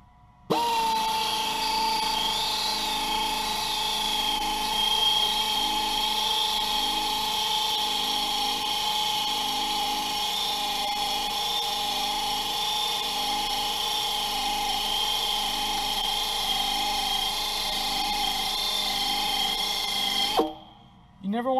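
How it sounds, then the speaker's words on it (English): A power buffer runs continuously on a tire being prepared for flat repair, a steady whining drone with a faint pulsing texture that stays loud and even for about twenty seconds before cutting off abruptly. "going side to side and up and down, slowly buffing the area till it's nice and even"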